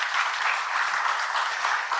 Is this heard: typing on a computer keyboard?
no